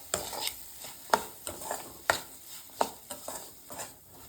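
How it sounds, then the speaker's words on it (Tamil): Semolina (rava) being dry-roasted and stirred in a pan for a sweet, with repeated scraping and tapping strokes of a spoon against the pan at an irregular rhythm, close and moderately quiet. "இப்போ ரவா நல்லா வறுத்துக்கலாம்."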